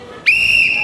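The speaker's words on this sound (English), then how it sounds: "With that whistle, the competition begins" A referee's whistle gives one sharp, loud, sustained blast to start a timed competition on a kids' game show, ringing alone for under a second.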